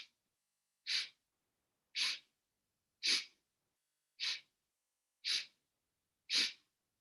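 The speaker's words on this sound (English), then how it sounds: "inhaling in 8 sniffs." Short, sharp nasal sniffs at an even rhythm about once a second, close and clear with silence between, during a Kundalini yoga breathing exercise that splits the inhale into eight parts.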